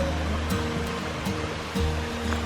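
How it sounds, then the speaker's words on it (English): Waterfall on Dartmoor in England, a close, steady rushing and splashing of water with no pauses and no voices. "If it's got a name, it's a waterfall."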